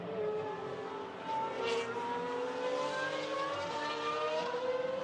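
A Pagani race car with a six-litre Mercedes-HWA V12 revving to 9,000 rpm runs at a GT1 event at Barcelona, its engine a sustained harmonic drone that climbs steadily in pitch at moderate distance.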